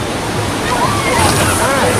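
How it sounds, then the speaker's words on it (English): Rough, aggressive waves at the Black Bear Rapids ride in a Tennessee waterpark churn and splash in a loud, steady wash, with voices faintly underneath. "Even the lifeguards will hold signs that say the waves are aggressive."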